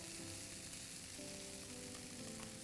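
Boiled corn stir-fried with chipotle in a pan hisses in a soft, even sizzle that runs without a break, with no voices.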